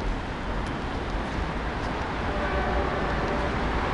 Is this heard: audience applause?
no